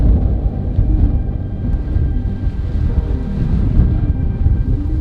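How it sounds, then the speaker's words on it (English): Strong wind buffets the microphone with a heavy, continuous low roar, gusting loudly without letup, near a sea cave on the Macau coast. "Whoa, it's super windy. It's super windy. I don't know if you can hear me"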